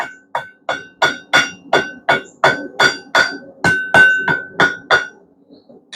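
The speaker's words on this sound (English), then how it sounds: "we're just going to bend it over the anvil just like we did for the drive hook project" Heated steel hammered over an anvil to bend it into a steak flipper: a steady run of about fifteen sharp, ringing metallic blows, loud and close, with no talk.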